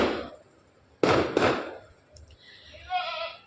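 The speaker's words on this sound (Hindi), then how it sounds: "इतने पटाखे की आवाज़ आ रही है" Two sharp firecracker pops burst close together after a brief opening noise, then quieter crackling and a faint whistling tone follow against a hushed background.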